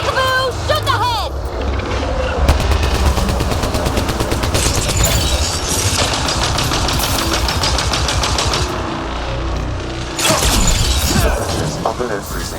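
Dense, continuous automatic gunfire from a sci-fi shooter game set on a freezing alien world, rapid bursts layered with sharp impacts throughout, loud and close, with occasional voice callouts mixed in.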